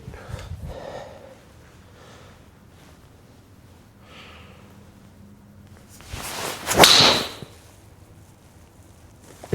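After quiet rustling, a rushing swing builds into a single sharp, high-pitched crack of a Callaway Elyte golf driver hitting a ball, close and loud.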